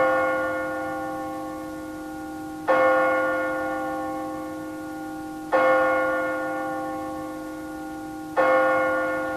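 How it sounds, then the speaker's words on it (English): A funeral church bell tolls at Westminster Abbey, three slow, heavy strikes spaced about three seconds apart, each with a long, ringing resonance that hangs and decays before the next blow. "he's carried off to his burial in Westminster Abbey as the funeral bell tolls"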